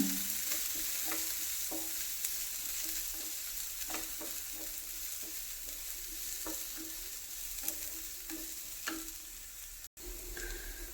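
Chopped garlic sautéing in a pan, a soft continuous sizzle with intermittent spoon stirs and light taps against the pan, close but fairly quiet, no voices.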